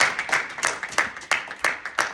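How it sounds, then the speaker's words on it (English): Sparse audience clapping at a community event, a handful of distinct, separated claps at an irregular pace, fairly close and moderately loud with no talk. "clap it up again for Tim"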